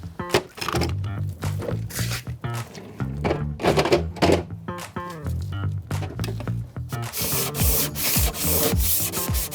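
Wooden furniture being sanded by hand, steady rubbing strokes with scattered knocks and thumps, close and fairly loud, ending in a denser, hissier stretch of sanding.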